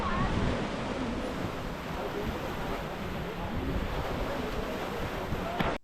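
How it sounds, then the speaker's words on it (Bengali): Sea waves wash onto the beach at Mousuni Island, a dense, continuous roar of surf mixed with strong wind buffeting the microphone. "ঘুম থেকে উঠেই দেখি সমুদ্রের ঢেউয়ের শব্দ"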